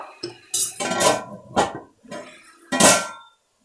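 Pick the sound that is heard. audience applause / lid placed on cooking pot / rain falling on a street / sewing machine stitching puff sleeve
lid placed on cooking pot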